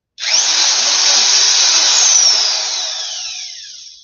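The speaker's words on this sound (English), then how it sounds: "One thing about this drill, once it gets started, it's not stopping" Electric power drill whirring at high speed, starting abruptly and running as one steady loud whine that slowly drops off and fades as it winds down, heard alone without talk.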